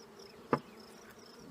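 Honey bees hum faintly around an open hive, with a thin continuous buzz broken by one brief louder buzz as a bee passes close.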